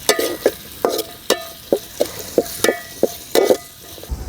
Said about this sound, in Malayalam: അരിഞ്ഞ് വെച്ച ഉള്ളി ഇട്ട് കൊടുക്കുക. അപ്പോൾ ഇതൊക്കെ കൂടിയിട്ട് നന്നായി ഒന്ന് വഴറ്റിയെടുക്കുക.